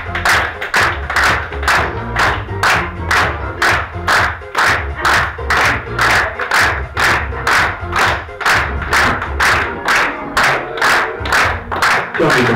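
Steady, loud rhythmic hand claps repeating at an even beat over a low thumping backing, continuing throughout.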